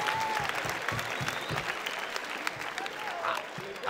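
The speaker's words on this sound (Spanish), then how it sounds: "Aplauso para esta réplica y para ustedes." Crowd applause at a freestyle rap battle, the Club De La Pelea Gold Battle, clapping and cheering that stays fairly quiet and distant with scattered voices mixed in.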